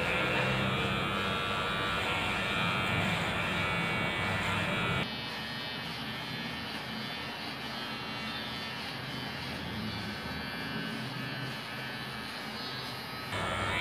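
An electric hair clipper with a number 2 guard buzzing steadily through a self-haircut, a constant close motor whine whose tone drops slightly partway through as it works into the hair.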